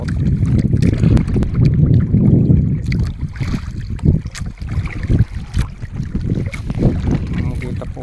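Wind and choppy sea heard from a small fishing boat far offshore, with gusty wind rumble buffeting the microphone, water slapping against the hull and irregular splashes, loud and close.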